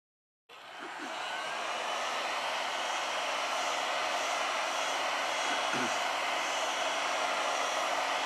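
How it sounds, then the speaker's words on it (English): A heat gun blowing on a Samsung Galaxy A10 phone to soften the charging port adhesive starts abruptly and runs as a steady, close whooshing hiss, with a couple of faint clicks underneath. "With the help of a heat gun, we apply 90 Celsius degrees during 4 minutes."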